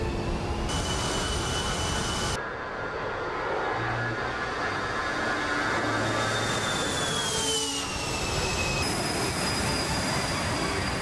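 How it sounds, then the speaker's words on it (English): An A-10 jet in the DCS World flight game taxiing onto a runway and throttling up, a steady engine roar with rising whining tones that climb in pitch, loud and continuous throughout with no talk. "the A-10, carefully taxiing up the ramp and onto the runway, kicking the rudder slightly to the right, gently pushing the throttle"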